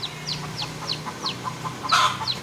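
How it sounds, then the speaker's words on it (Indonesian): A chick peeps repeatedly in quick, evenly spaced high chirps, ending with a louder burst of peeping, close and clear over low hum. "Bunyinya beda ke suara ayam."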